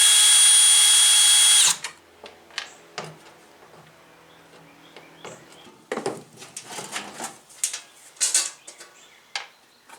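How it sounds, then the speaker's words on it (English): A power screwdriver whirs loudly for the first two seconds while removing screws from a Suzuki Samurai door panel, then gives way to quieter clicks, rattles and small metallic handling noises up close. "So I'm just going to take these out with the screwdriver."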